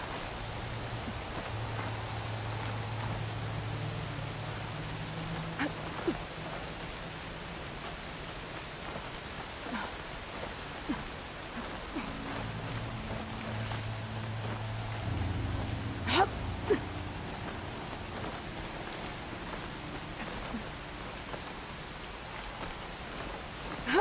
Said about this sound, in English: Rain's drowning out other sounds.